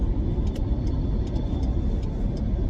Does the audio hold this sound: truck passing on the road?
yes